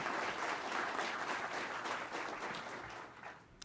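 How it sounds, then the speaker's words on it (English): An audience applauds at a pilot training graduation ceremony, a broad, even wash of clapping from a large crowd, heard from a distance and fading toward the end. "Big round of applause, please"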